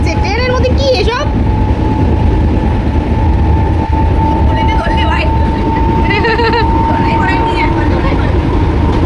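Inside a moving train, a loud continuous rumble of the carriages with rhythmic rail noise while passengers chatter and laugh throughout.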